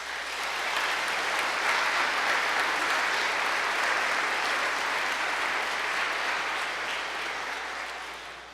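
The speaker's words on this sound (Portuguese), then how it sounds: "Temos que agradecer-lhes, dando uma salva de palmas." A church congregation gives a round of applause during Sunday Mass, a full, steady wash of clapping that swells and then fades slightly at the end.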